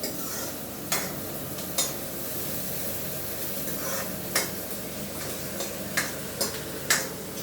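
Ingredients for chicken gravy fry in a pan with an even sizzle, while a spoon stirs and scrapes against the pan in occasional sharp clicks.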